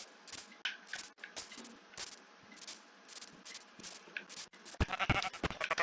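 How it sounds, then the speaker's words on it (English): A sheep in Minecraft bleats in short, repeated cries between quieter gaps, with a louder cluster of sounds near the end. "Ooh, and there's a sheep"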